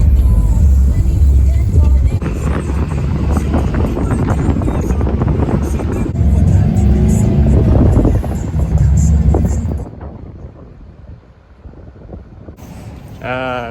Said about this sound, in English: We're gonna take a bus just by this road,